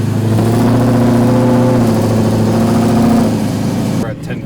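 Car engine revving and pulling hard on the road, steady loud droning with rising harmonic tones held for several seconds before easing off, close up inside the vehicle.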